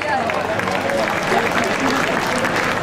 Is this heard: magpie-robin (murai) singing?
no